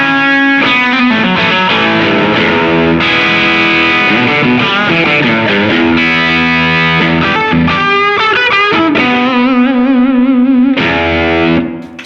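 Electric guitar through a JHS Hard Drive distortion pedal, loud and saturated, playing a steady run of chords and single-note riffs for about twelve seconds with no talking, ending abruptly.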